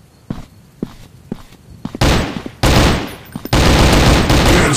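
Rapid gunfire from the mobile shooter Gun Strike: Offline Shooting 3D: a few spaced single shots, then dense, loud automatic bursts that fill the rest of the stretch.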